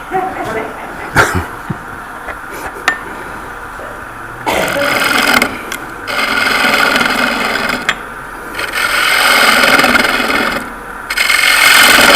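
Wood turning on a lathe at high speed, with loud bursts of rough scraping and rasping from the tool on the spinning workpiece, broken by brief pauses and a few knocks.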